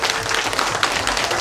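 A brief, loud burst of clapping from participants at a citizens' public forum on household waste and recycling, a dense, close patter lasting only a moment.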